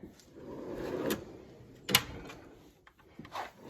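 Metal drawers of a US General tool cart slide open and shut in a garage, a rolling scrape followed by a sharp clack, then a few softer knocks, with no talking.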